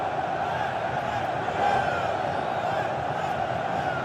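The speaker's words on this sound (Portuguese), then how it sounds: "a torcida do Corinthians tem mais combustível para a festa" Corinthians supporters roar and cheer in a packed football stadium during a Brasileirão 2015 derby against São Paulo, a steady dense crowd wash with a slight swell midway, no clear talk on top.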